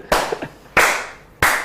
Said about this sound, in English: Can I get some clapping or something?